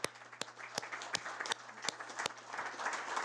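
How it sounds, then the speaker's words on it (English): Applause at a city council meeting honoring a university women's basketball team, national runners-up: a faint, steady patter of clapping from a modest crowd, with a few sharp individual claps standing out. "so that deserves a round of applause right there"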